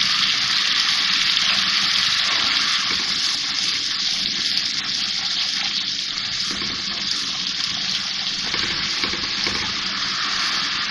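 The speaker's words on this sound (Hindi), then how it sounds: "मसाला भून रही हूँ मैं, इसकी बहुत ज़बरदस्त सी खुशबू आ रही है।" Masala with green chillies frying in a pan for halwa puri chole, a steady loud sizzle and hiss that runs unbroken and close throughout, with no talking.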